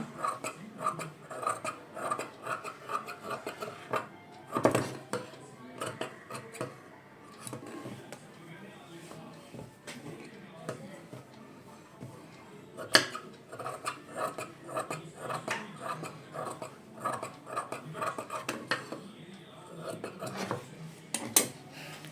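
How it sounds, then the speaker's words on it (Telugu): Scissors cutting cloth around a blouse lining during hand cut-work tailoring, a string of close snips and rustles with irregular sharp clicks, with quiet talk underneath. "ఇప్పుడు లైనింగ్ చుట్టూ ఉన్న క్లాత్ని అయితే కట్ చేసుకోవాలన్నమాట"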